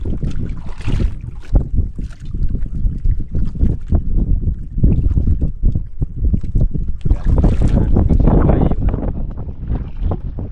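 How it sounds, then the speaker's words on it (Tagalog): An outrigger boat (bangka) nears on open sea while fishing, its engine a steady broadband rumble under gusting wind noise, with a brief lull before the sound swells again and stays loud. "Malapit na yung bangka mga tropa oh."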